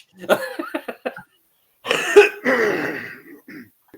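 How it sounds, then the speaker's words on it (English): A person coughs and clears their throat nearby: a quick series of short hacking coughs, a pause, then a longer rough throat-clearing cough that trails off. "You're coughing over there."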